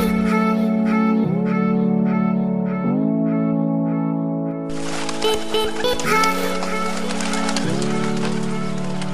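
Pigeons at a racing pigeon loft coo in repeated deep, rolling calls, close and loud, while a burst of flapping and broader noise joins midway.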